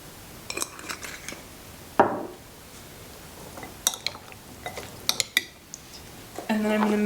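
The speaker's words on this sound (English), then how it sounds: "let's give our salad a mix" A salad dressed with lemon juice and dill is tossed in a bowl, with scattered clinks and scrapes of utensils against the dish coming in short, irregular bursts, plus a brief louder clatter near the middle.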